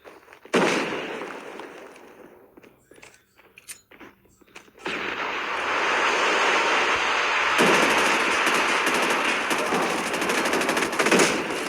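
Rapid automatic gunfire in a shooter video game, with a short burst at the start, scattered shots, then sustained loud continuous firing that dominates the rest of the clip.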